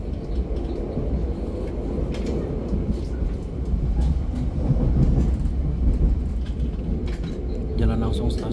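Steady rumble and rattle of a passenger train on the Semarang to Jakarta line, heard from inside the carriage as a continuous loud low roar with clanking, with some background voices.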